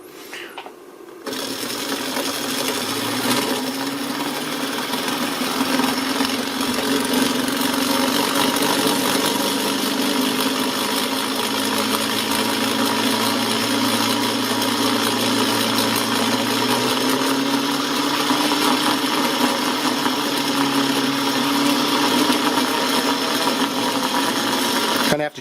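A Kromrey shorted-coil generator rotor spins with a steady mechanical whir and hum that starts abruptly after a brief quiet moment, then holds a constant buzzing drone with slight pitch drift throughout.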